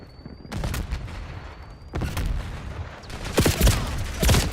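Rapid bursts of automatic gunfire in a Black Ops 6 multiplayer hardpoint match, dense and close, with several sharp volleys layered over continuous battle noise and no voices.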